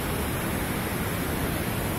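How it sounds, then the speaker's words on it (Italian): Rushing water near the Umbal waterfalls in Austria, a steady, broad, hissing roar with no breaks, filling the whole short stretch alone. "Oh, ma qui arriva dell'acqua!"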